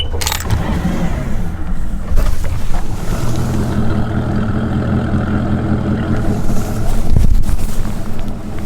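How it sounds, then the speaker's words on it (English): A Mercury outboard motor on a bass boat cranks and catches in cold weather, settling into a low steady rumble with a surge near the end, outdoors with some wind buffeting the microphone. "For the first startup, see what this Mercury's gonna do."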